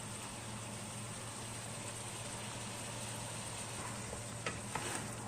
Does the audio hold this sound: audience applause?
no